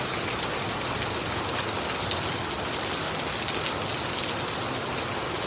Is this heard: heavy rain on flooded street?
yes